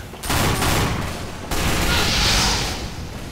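Sniper rifle fire in Team Fortress 2, two loud booming shots about a second apart, each followed by a long rumbling echo, with busy battle noise underneath.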